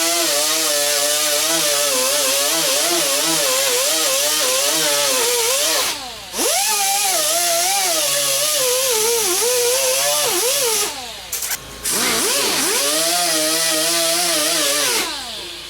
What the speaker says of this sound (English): I'm going to go ahead and grind this off, and that off.